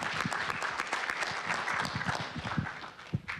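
An audience claps for students at a youth speaking event, a dense, even patter of many hands filling the room, with a murmur of voices faintly underneath.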